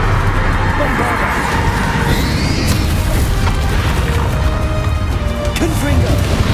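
Bombarda blasting spell from Hogwarts Legacy going off amid dense, loud combat noise, with booming crashes and impacts layered over continuous battle effects and a spoken incantation.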